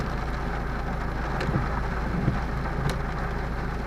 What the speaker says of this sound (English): Some rain in Bonnie, Scotland